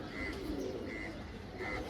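Pigeons coo softly nearby, a few brief, faint calls repeating at intervals over low background noise.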